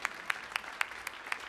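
A small stage audience applauding at a live concert, heard as a few sparse, distinct claps spaced about a quarter second apart, faint and distant.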